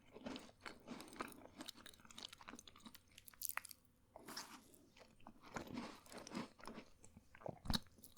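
Close, quiet crunching and chewing of Jaffa Cakes, sponge biscuits with orange jelly and chocolate, with repeated bites and mouth sounds over several seconds and no talk.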